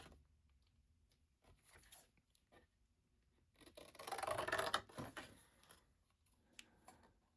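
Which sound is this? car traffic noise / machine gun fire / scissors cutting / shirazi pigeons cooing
scissors cutting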